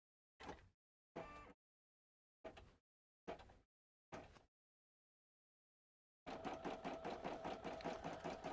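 Brother PE900 embroidery machine stitching, heard first as five short separate bursts of needle action with pauses between them, then as a steady fast rhythmic run that carries on to the end, close by with no talk.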